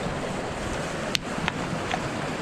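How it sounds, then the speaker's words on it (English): A rock is thrown into open water outdoors and skips across the surface, giving three short, separate splashy taps against a steady wash of wind and water noise. "I want to throw a rock in the water."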